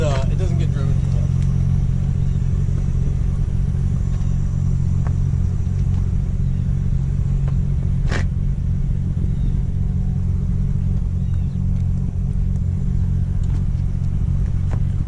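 A turbocharged 6-liter Chevy SS 1500 truck engine idling with a deep continuous rumble, loud and close, while people talk over it.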